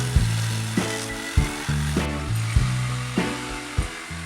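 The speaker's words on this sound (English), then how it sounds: "and cutting some more, and breaking a lot of saw blades." A hand saw works through a wooden floor joist during a joist replacement, making steady rasping strokes in a repeating rhythm of about two per second, close and fairly loud, with no talking.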